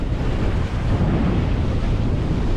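Strong wind gusts around 20 knots on a sailboat at sea, a loud, dense, continuous roar of wind buffeting the microphone mixed with the rushing wash of water along the hull.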